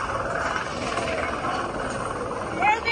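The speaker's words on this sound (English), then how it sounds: "Ito yung yung helicopter ng PNP." Philippine National Police helicopter flying overhead, a steady broad rotor and engine roar that fills the scene without a break, fairly loud and continuous.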